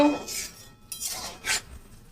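A lid comes off a cooking pot of boiled papaya whose water has dried up, giving a few close metallic scrapes and light clinks over about two seconds.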